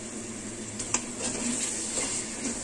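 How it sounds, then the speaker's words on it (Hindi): Chicken pieces frying in a pan over a medium flame, a steady soft sizzle with a few light stirring scrapes and clinks, close and moderately quiet, with no voices. "चिकन को फ्राई करते हुए मुझे 3 मिनट हो गए हैं, मीडियम फ्लेम पर मैंने इसे फ्राई किया है।"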